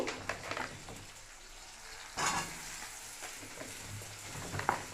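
Potatoes fry with onion and green chilli in mustard oil, a soft steady sizzle with occasional stirring scrapes and louder bursts, heard close with no talk.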